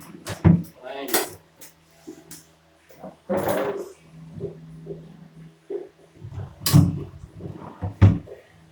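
Drawers of a wooden study table are pulled open and pushed shut, giving scattered wooden knocks, slides and thuds in an uneven rhythm, with quiet sounds between them.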